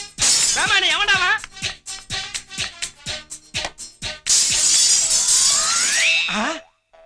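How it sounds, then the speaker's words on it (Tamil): A glass window shattering amid a comic scene, with a burst of breaking and tinkling glass followed by cartoonish boing effects, loud and close, while voices shout and talk over it. "தங்க மாதிரி இந்த ஜன்னல் உடைஞ்சிடுச்சே."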